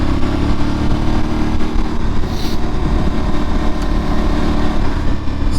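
Aprilia Tuareg 660 motorcycle being ridden on a backroad, its mid-pitched engine droning steadily and loud close up, mixed with wind rush and no talking.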